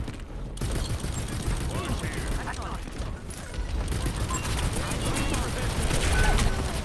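Rapid, sustained gunfire from D.Va's mech in the Overwatch shooter, a dense continuous stream of shots filling the whole stretch with the loudness steady throughout, mixed with game effects and a voice speaking over it.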